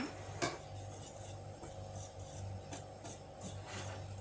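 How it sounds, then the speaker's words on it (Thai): Batter made with sifted flour for a Thai rosette dessert (khanom dok jok) is stirred in a bowl, producing repeated soft scraping and rubbing strokes in a steady rhythm, quiet and close with a low hum behind. "คนให้เข้ากัน"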